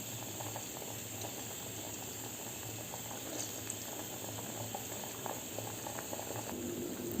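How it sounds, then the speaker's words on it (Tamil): Salted water with lemon juice boiling steadily in a cooker, a continuous close bubbling and hissing with soft irregular pops throughout, no voices. "இப்போ தண்ணி நல்லா கொதிச்சிருச்சு."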